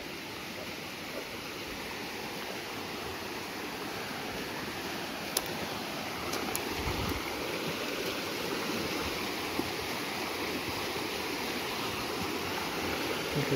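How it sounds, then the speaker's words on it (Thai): Floodwater after heavy rain rushes loudly and steadily, a dense continuous roar that stays close and constant throughout. "แต่เสียงน้ำนี่ดังครับชัดเจนรุนแรง"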